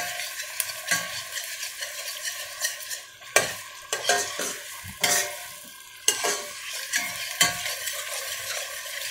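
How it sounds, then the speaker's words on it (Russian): Onions, paprika and tomato paste sizzle in a hot pan while a utensil stirs and scrapes through them in repeated strokes, with sharp clacks against the pan and no talking. "сейчас около 2 минут еще пожарим"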